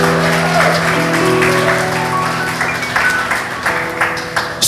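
A church congregation claps during an evening service, a loud, dense wash of hands over sustained music tones, with a voice speaking faintly beneath and the clapping thinning toward the end.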